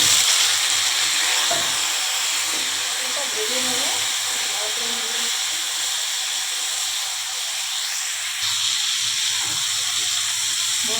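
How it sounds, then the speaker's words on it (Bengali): Dried pointed gourd (potol) fries with bay leaf in a pan, giving a steady, even hiss and sizzle that carries on unbroken for the whole stretch. "আমি এখন পটলটাকে ভেজে নিচ্ছি"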